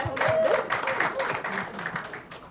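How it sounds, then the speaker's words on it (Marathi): A music event audience gives a short burst of applause, moderately faint and steady, with a voice faintly mixed in. "त्यांच्यासाठी पण एकदा जोरदार टाळ्या होऊ द्या"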